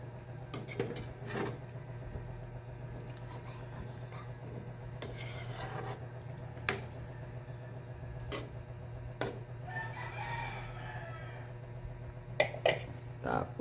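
Sautéed vegetables (ginisang gulay) are stirred in a pot, producing sparse metallic clinks and scrapes of a utensil against the pot over a quiet hum, with a voice speaking at times.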